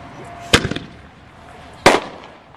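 Two single-ball firework canister shells burst at a display, each a loud, sharp bang with a brief crackling tail, spaced over a second apart against a low outdoor background.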